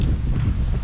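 Steady breeze blowing across an outdoor construction site on a hot day, a continuous close rush of wind buffeting the microphone with no voices.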